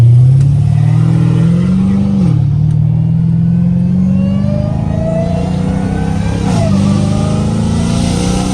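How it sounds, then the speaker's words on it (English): A Dodge Challenger Hellcat Redeye with catless catback exhaust revs loudly up close, a deep rumbling drone that climbs in pitch, dips sharply and climbs again through two rising pulls. "Oh, dude, this car is too loud, bro."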